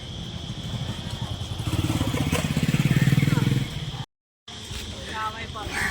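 Motorcycle engine puttering close by, its rhythmic chugging rising in the middle and then fading, with people talking over it and a brief dropout near the end.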